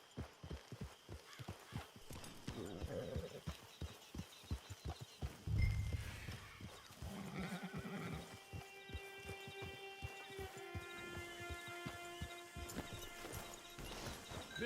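Horse hooves in Red Dead Redemption 2 clopping at a steady rhythm, close and moderately soft, with brief scuffs and a ringing tonal layer joining in toward the end.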